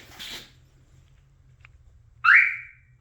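After near silence, a single sharp electronic chirp from an aftermarket car alarm on a Toyota rings out close by and briefly.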